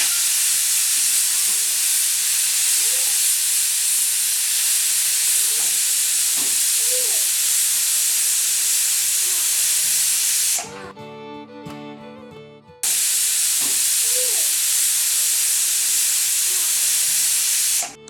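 A pressure cooker cooking drumsticks with eggs in a tamarind curry lets out a loud, steady steam whistle that runs for many seconds, with a clearly tonal, shrill stretch in the middle before the hiss carries on.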